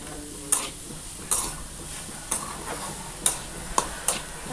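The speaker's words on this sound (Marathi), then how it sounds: "आपण व्यवस्थित परतून घेऊया." Jackfruit bhaji with onion masala sautéing in a pan, a steady soft sizzle broken by six crisp spatula scrapes and taps at uneven intervals, heard up close without speech.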